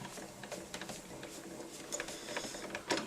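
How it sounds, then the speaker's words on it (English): A ribbon is rolled through an Ezy-Press embossing machine, producing soft mechanical ticking and light clicks from the rollers, with a sharper snap near the end. "then you put embossing pad B on top and then roll it through"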